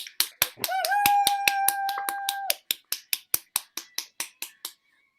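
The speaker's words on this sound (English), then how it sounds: "Let's give everyone another round of applause." A small audience claps after an improv comedy show, with a brief sustained tone under the first seconds, then the applause thins into distinct, evenly spaced single claps that fade out.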